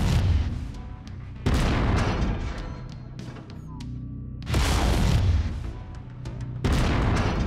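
Heavy mech weapon fire in MechWarrior 5: Mercenaries, three loud booming salvos that each hit hard and roll on for about a second before fading, with quieter mechanical rumble and game sounds between them.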